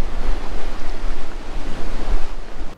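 Loud, close surf breaks at Pololu Beach, Hawaii, as a dense roar of crashing waves with heavy wind buffeting on the microphone. No voices are heard.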